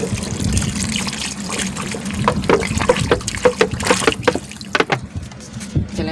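Water pours and splashes into a pot of aloo chicken curry, a steady gushing stream that breaks into trickles and drips toward the end.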